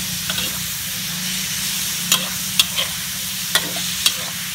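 Pork and ridge gourd stir-fried in a pan, a steady sizzle with a low frying rumble under several sharp clacks of a spatula against the pan, close and fairly loud, no talking.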